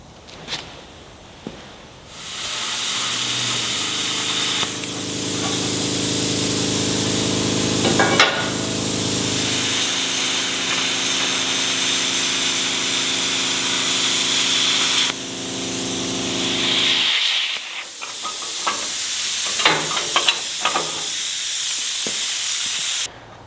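Worn metal hinge parts are cut from an old farm sprayer boom, a loud, sustained hissing roar that holds for about fifteen seconds, then cuts out and is followed by scattered metallic clanks and taps.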